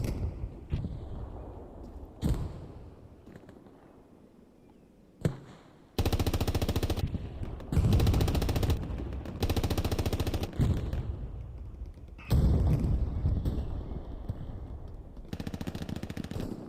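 Machine gun fire in Hell Let Loose from a gun on a broken wall in a St Mere Eglise match, loud sustained bursts in several long strings with scattered single distant shots in between.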